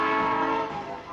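The first Tongil-ho train of the morning departs Seoul Station for Busan, a steady loud horn-like tone with rumbling rail noise throughout the brief moment.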